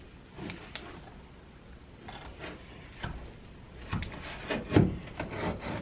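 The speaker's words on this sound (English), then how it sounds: "I'm just doing this fast to make sure this mixes together before it gets really cold on it" Homemade suet cake mixture being stirred by hand in a cold building, giving faint, irregular scraping and rubbing strokes with a few louder knocks near the end.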